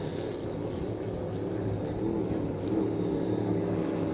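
Steady droning engine roar of vintage hydroplane racing boats during a regatta heat, continuous and fairly distant, with no pauses or talk.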